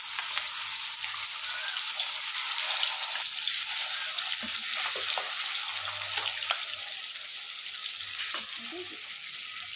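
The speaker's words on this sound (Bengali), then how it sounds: "কড়াটা গরম হয়ে গেছে, দিয়ে দেবো পরিমাণ মতন তেল। এরপর মাছগুলো এক করে দিয়ে দেবো।" Hilsa fish frying in hot oil in a wok, a continuous close, hissing sizzle with crackles and occasional soft scrapes of stirring throughout, no talk.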